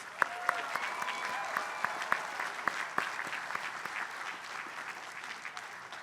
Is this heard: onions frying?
no